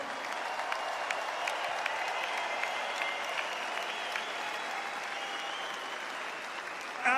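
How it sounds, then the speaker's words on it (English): A boxing crowd applauds the two fighters after a twelve-round championship bout, steady mid-level clapping from a large arena audience that carries on evenly throughout, heard at some distance. "Ladies and gentlemen, another round of applause for these two tonight."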